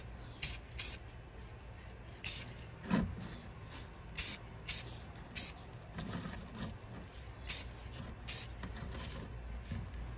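A spray can applies light coats of rust paint to a Hot Wheels '32 Ford hot rod model in short hissing bursts, about a dozen brief sprays in an uneven rhythm, close and fairly soft.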